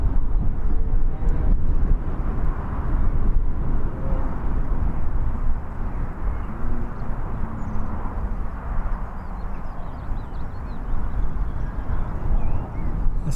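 A Qatar Airways airplane at Birmingham Airport gives a distant, steady, low jet rumble that swells and fades gently over thirteen seconds, with no voices over it.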